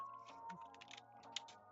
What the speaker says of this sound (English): That's the keyboard.